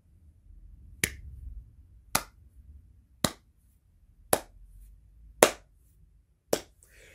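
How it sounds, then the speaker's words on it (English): Six slow, deliberate single claps, evenly spaced about a second apart, each sharp and crisp against near silence. "All I can say, brother, is slow clap"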